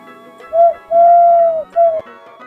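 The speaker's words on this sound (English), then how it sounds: "Pigeon." A pigeon coos in three smooth, hooting notes, a short one, a long sustained one, then another short one, loud and close with nothing else heard.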